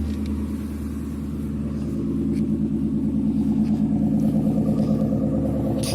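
A 2004 Ford Crown Victoria Police Interceptor with a Mustang GT two-valve V8 and heavily modified dual exhaust idles close by, a steady deep rumbling burble that swells slightly partway through, with no talk over it.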